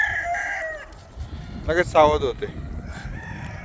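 Free-range village chickens cluck and a rooster crows loudly up close, the crow rising sharply near the middle while someone speaks briefly at the end over the flock.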